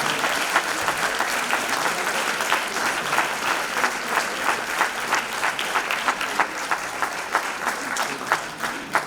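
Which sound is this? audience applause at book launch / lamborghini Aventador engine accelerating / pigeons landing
audience applause at book launch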